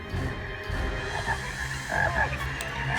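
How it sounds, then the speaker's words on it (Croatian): A dense chorus of frogs croaks continuously, overlapping calls pulsing loud and close with no pauses and no voices. "Žabe."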